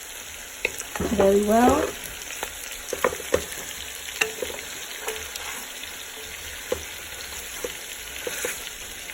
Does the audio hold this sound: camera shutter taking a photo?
no